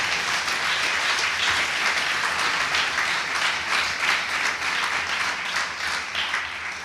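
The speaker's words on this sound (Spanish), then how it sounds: "Dale fuerte el aplauso al Señor." A church congregation claps loudly in praise, a dense sustained wall of applause that stays steady for several seconds before easing slightly at the end.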